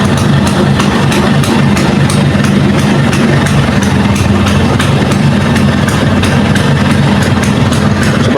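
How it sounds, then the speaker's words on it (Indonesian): A Vespa Sprint scooter engine runs at a steady, close, loud idle, with a continuous low rumble and an even putter throughout. "Oke, terus kita coba nyalakan mesinnya."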